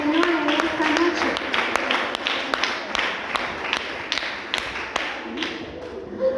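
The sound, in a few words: congregation applauding in church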